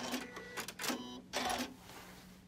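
Short bursts of a sewing machine stitching a quilt block: three quick runs of rapid mechanical whirring with brief gaps between, close and fairly quiet, trailing into a soft hum.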